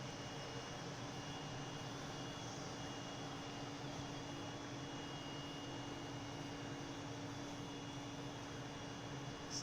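Small airplane engine droning steadily as the throttle is eased up on approach in windy conditions, a constant close hum with no voices over it.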